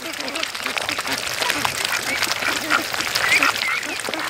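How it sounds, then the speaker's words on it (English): Geese and ducks, some of them hatched on the farm, honk and quack in a busy, overlapping chorus at moderate distance, with a steady outdoor background. "And of course the geese lead the way."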